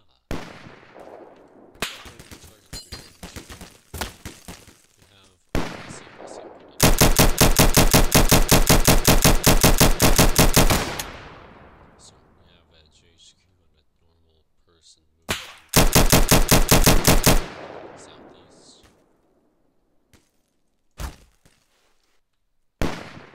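Gunfire from an FAL rifle and a machine gun in a video game: single sharp shots and two long sustained automatic bursts, each echoing as it dies away, with spaced reports between them.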